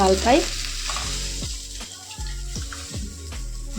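Ground lentil paste hits hot oil in a pan and sizzles loudly, with repeated rhythmic scraping and stirring strokes throughout.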